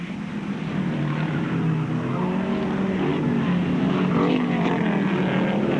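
Production cars racing flat out at Bathurst in 1987, heading down Conrod Straight toward a left-hander, their engines a loud continuous roar that swells as they pass close by.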